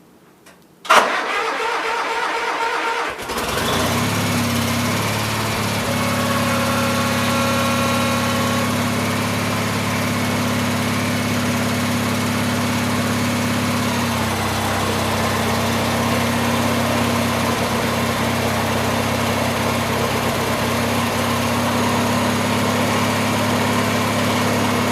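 A Gravely 44-inch snow blower engine starts with a brief crank and then runs steadily after a gear box change, a loud, even drone close to the listener.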